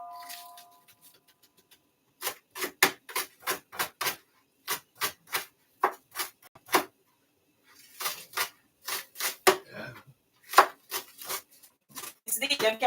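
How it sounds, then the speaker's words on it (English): A knife chops scallions on a board in bursts of quick, crisp taps, several runs of evenly spaced strokes separated by short pauses, close and clear with no talking over them. "So while that is getting hot, I'm just going to quickly chop up some scallions."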